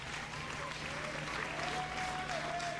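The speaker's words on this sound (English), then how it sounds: "Got another good crowd tonight, Lynn." A crowd at a midweek college softball game between UL Monroe and LSU applauds, a steady distant wash of clapping and crowd noise with faint voices beneath.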